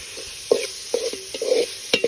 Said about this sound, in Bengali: এখানে তেল পেঁয়াজ কাঁচামরিচ জিরার গুঁড়ো হালকা হলুদ এবং তেজপাতা দিয়ে মশলাগুলোকে কষিয়ে নেবেন